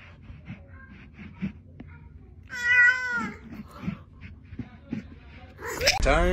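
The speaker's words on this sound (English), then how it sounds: "Peek at the cat." A cat meows in a drawn-out, wavering cry near the middle, then gives a sharper, higher call at the end, surrounded by soft background voices and movement.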